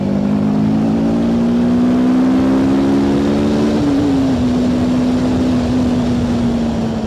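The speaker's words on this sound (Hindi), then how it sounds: "300 सीसी के यहाँ पे आपके पास इंजन मिल जाता है, और इतना ज़्यादा पावरफुल है इंजन।" A TVS Apache RTR 310 motorcycle with a 300 cc engine, heard on the road: a loud, close, steady engine drone that climbs gradually, then settles into a slightly lower even hum.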